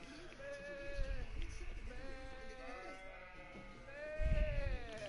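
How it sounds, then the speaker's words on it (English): Sheep bleat repeatedly in a field in the video game Kingdom Come: Deliverance, several wavering calls overlapping at moderate distance with low rumbling ambience beneath. "now we in a field with a bunch of sheep"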